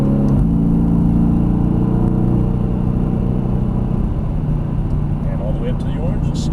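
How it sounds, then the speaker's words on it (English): A Mercedes-AMG GT S engine accelerates hard out of a corner on a Las Vegas racetrack, heard from inside the car as a loud, steady, rising roar that builds throughout. "Once we hit that apex, start squeezing on the throttle. And when we're straight, foot on the floor."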